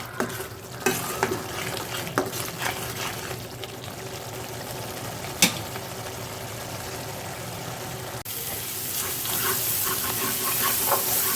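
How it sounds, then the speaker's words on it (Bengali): A spice paste of garlic and ginger stir-fried in a kadai: a low, continuous sizzle with scattered scraping and tapping from stirring, the frying swelling louder in the last few seconds. "রসুন এবং আদা বাটা দেওয়ার পর আমি মশলাটাকে ভালো করে কষিয়ে নিব"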